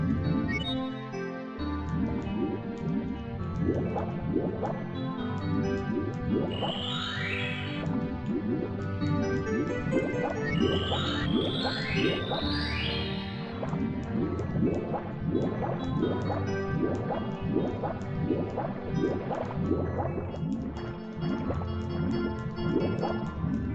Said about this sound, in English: And let's swim back up.